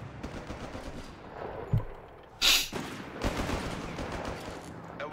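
Mortar blasts and gunfire from the World War II strategy game Company of Heroes 3, with a sharp burst and a loud boom partway through over a steady backdrop of distant battle noise.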